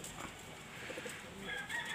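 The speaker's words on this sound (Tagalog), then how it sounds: "Andiyan sa loob mga kalapati natin." Pigeons cooing softly inside their coop, a faint steady murmur of calls with no speech over it.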